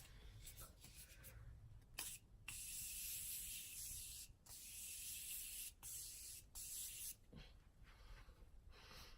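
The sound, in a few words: spraying MAC Fix Plus makeup setting spray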